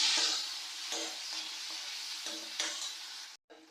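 Tomatoes and chillies sizzle as they are mixed and fried in a pan, a bright hiss with several short scraping stirs, close and fairly quiet, cutting off briefly near the end.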